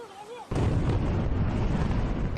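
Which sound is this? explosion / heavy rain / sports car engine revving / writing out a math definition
explosion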